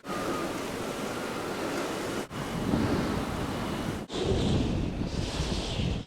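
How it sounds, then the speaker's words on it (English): Strong wind gusting around a camper van at a free campsite near Phoenix, Arizona, a loud broadband roar with buffeting on the microphone and two brief dropouts between sustained surges. "Got another little windstorm going on here"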